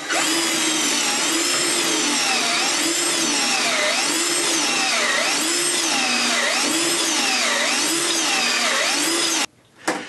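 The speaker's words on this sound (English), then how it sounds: "You drill a couple of pocket holes top and bottom, and 3 along the top, and that's what I'm going to do right now" A power drill boring pocket holes into a wooden side table, a loud sustained whine that cycles up and down in pitch in regular strokes, cutting off abruptly near the end.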